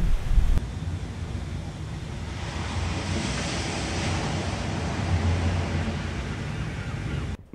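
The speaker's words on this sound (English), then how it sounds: "I'm gonna record some ocean sounds to use in our track" Ocean waves wash onto a shore in Barbados as a steady, loud roar of surf, with wind buffeting the microphone throughout and a brief sharper gust at the start.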